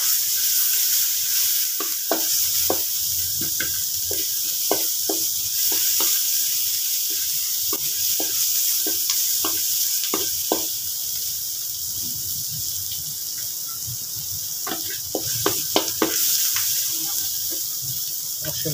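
Onions sautéing for beef with ampalaya, a steady close sizzle carrying clusters of sharp spatula clinks and scrapes, with a brief pause in stirring midway.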